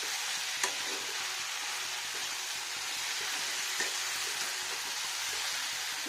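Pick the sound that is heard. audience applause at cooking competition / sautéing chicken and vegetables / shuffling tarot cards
sautéing chicken and vegetables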